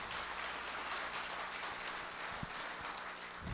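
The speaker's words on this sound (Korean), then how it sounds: "박수 한번 쳐주시죠" Faint, distant applause from an audience at a Korean book concert, a soft continuous wash of clapping with a single sharper knock partway through.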